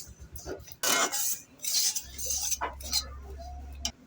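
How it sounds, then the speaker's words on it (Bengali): Semolina with salt, chili and sugar is stirred and roasted in a pan, with clinking, scraping strokes of a utensil against metal, a few loud bursts and a low hum underneath, with no talking. "চিনি আমরা ভালো মতো নেড়ে চেড়ে সুজিটা 1 মিনিট ধরে ভেজে নিব"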